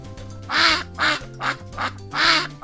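A duck quacking repeatedly, several loud nasal quacks in an uneven rhythm, close and clear, over a repeating musical tone pattern.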